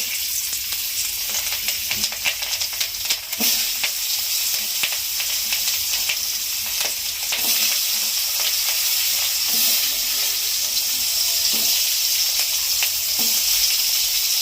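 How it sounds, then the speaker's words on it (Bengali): Potatoes frying in oil in a wok give a steady, close sizzle throughout, with occasional stirring scrapes and clicks breaking through the continuous hiss. "এই আলুগুলো ভেজে নেব"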